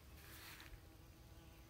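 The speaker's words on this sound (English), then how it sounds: "You can hear the bees on it." Bees buzz faintly and steadily around a flowering butterfly bush in a summer garden, a soft continuous hum with no talking.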